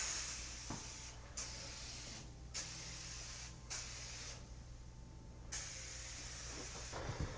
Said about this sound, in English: you can spray all these areas right here.